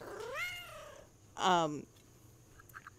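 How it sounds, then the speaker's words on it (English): A house cat meows twice at close range: a drawn-out rising and falling call, then a shorter, louder, strained meow, with a faint high tone and small clicks in a quiet indoor room afterward. "I think my cat doesn't like it when he thinks I'm talking to myself, so he is coming over to say hi"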